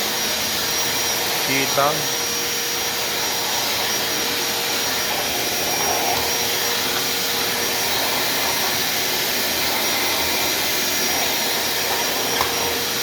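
A Black & Decker vacuum cleaner running while cleaning a gym floor: a loud, steady, unbroken roar throughout, with a brief spoken word early on.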